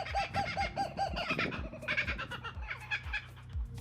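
A laughing kookaburra gives a rapid, rhythmic run of chuckling, cackling notes that rise and fall in repeated bursts, clear and fairly loud.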